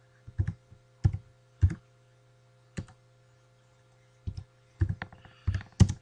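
Sharp individual keystrokes on a computer keyboard, entering paper sizes, come in an irregular sequence of separate clicks with short gaps and a quicker cluster near the end, close and clear.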